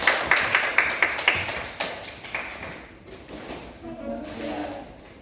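Students in a classroom give a short round of applause, a quick string of sharp claps that fades after a couple of seconds into murmuring room noise and speech.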